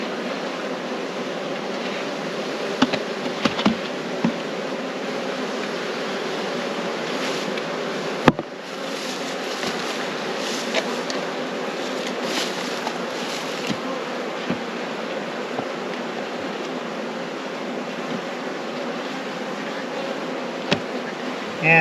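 Honeybees buzzing around a beehive as supers are added, a steady, dense droning hum that fills the whole stretch, close and continuous, with a few faint clicks and knocks from handling the hive.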